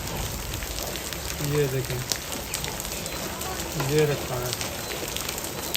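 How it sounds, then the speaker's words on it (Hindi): Steady rain falls outside with small hail or sleet pellets mixed in, a continuous broadband patter filling the background while someone talks briefly over it. "इतनी बारिश आ चुकी है"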